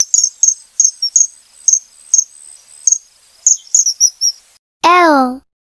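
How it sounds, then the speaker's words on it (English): Kingfisher calling with a series of high, sharp chirps in quick irregular bursts, clear and fairly close. A single longer, rising-and-falling harmonic cry follows near the end. "K is for kingfisher."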